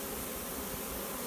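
A swarm of bees pouring into a hive box, a dense, even buzzing hum filling the brief moment, close and constant with no voices.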